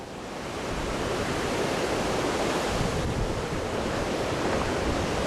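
Ocean surf and wind at a beach near a shipwreck site make a broad, steady roar that swells in and then holds constant, with no voices.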